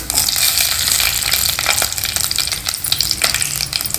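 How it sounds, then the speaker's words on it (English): Mustard seeds, cumin and a green chilli sizzling in hot ghee in a pan, a loud, close, continuous crackling fry with sharp popping spatters. "So heat some ghee in a pan. Add some mustard seeds, jeera, 1 green chilli,"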